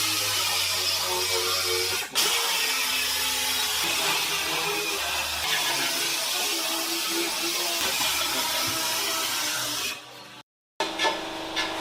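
Sandpaper rubbing over a plastic front bumper from a Toyota AE86 restoration, a steady close scratchy hiss running continuously with brief pauses and a short silent gap near the end.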